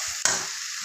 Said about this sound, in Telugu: బంగాళదుంపలు ఇలా బాగా వేగాక